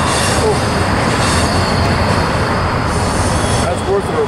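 A westbound freight train rolls past close by at Cajon Summit on Cajon Pass, a dense and steady rumbling roar of wheels and engines that fills the whole stretch without a pause.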